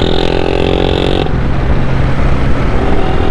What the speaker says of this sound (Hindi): मोटरसाइकिल काफ़ी तेज़ चलानी पड़ेगी मुझको।